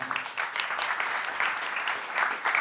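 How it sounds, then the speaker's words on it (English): A seated audience at a digital art panel discussion breaks into steady, sustained applause, many hands clapping together in a dense, even wash throughout. "please give her a round of applause as well"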